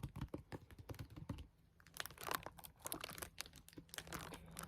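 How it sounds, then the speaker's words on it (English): Close, quiet fingertip tapping and crinkling on library books with plastic-covered jackets, a busy run of soft taps and crackles with a short near-silent pause partway through. "page flipping and crinkling. Some tapping."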